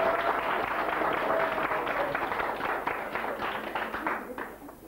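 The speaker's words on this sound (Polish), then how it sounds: "Oklaski" A hall full of people bursts into sustained, dense applause at a 1993 youth association meeting, the clapping steady and close, thinning slightly as it dies away after about five seconds.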